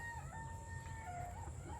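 A tiny full-grown hen, about the size of a pigeon, clucks softly in a garden with a few brief, quiet calls against a low background hum.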